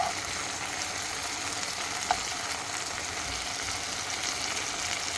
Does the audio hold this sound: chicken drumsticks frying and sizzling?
yes